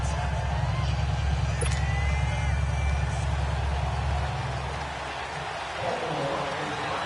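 Steady rain in a PS4 NFL football video game during the second half of a Week 8 game, a continuous hissing wash over a low rumble that eases slightly toward the end.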